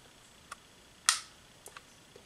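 A small, crisp click from a Sig Sauer P320 pistol trigger resetting, surrounded by a few fainter ticks of handling in a quiet setting.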